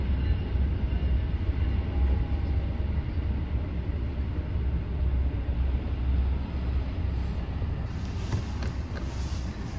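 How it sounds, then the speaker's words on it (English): The Amtrak Lake Shore Limited passenger train passes nearby in a steady, heavy low rumble of wheels on rail that stays loud throughout, with some brighter rattling toward the end. "Lakeshore Limited again."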